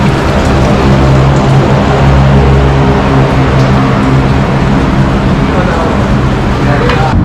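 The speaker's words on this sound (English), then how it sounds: "don't worry about all the noise you hear, all the traffic" Steady, dense roar of road traffic on a busy Bangkok street, heard from a small hotel garden near Central Pier, continuous and fairly loud throughout with passing vehicles blending together.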